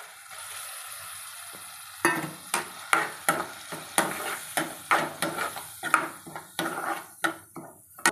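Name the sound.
stirring chaat with garam masala, chaat masala and peas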